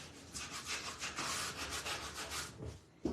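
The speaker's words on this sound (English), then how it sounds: "always remember, go the same direction when you're sanding" Wooden tic-tac-toe pieces being sanded by hand in rhythmic back-and-forth strokes, soft close rubbing and scratching that repeats about every half second, quiet with no talking.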